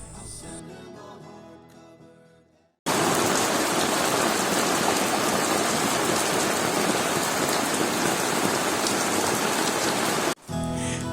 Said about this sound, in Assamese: যোৱাকালিৰে পৰা ধাৰাসাৰ বৰষুণ।